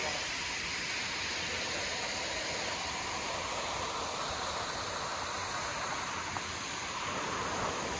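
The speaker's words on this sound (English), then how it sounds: "This is part of the waterfall." Steady, broadband roar of a waterfall on a river gorge hike, continuous and fairly close with no breaks.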